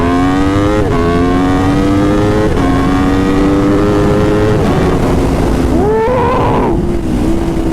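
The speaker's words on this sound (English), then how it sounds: "I don't know if I've had a bike that sounds this good" A 2019 Aprilia RSV4 RR motorcycle engine revs up and down several times nearby, loud climbing whines falling back between throttle blips.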